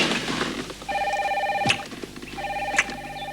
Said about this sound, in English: It's already ringing.